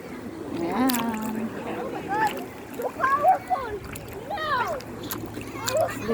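Splashing and sloshing of water as sandals and other belongings are washed in the Palakol River in Floridablanca, Pampanga, with uneven bursts under steady conversation nearby.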